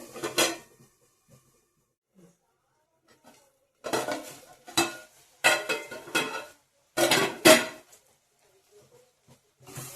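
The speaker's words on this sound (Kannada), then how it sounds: "ಇವಾಗ ರುಬ್ಬಿದ ಕೊಬ್ಬರಿ ಮಸಾಲ ಹಾಕ್ತಾ ಇದ್ದೀನಿ. ಮಸಾಲ ಒಂದು 2 ನಿಮಿಷ ಫ್ರೈ ಆಗಿದೆ." Ground coconut masala being stirred as it fries in a pan for ivy gourd curry, with scraping clinks of a spoon against metal coming in short bursts, a quick flurry at the start and then a denser run of clattering strokes midway.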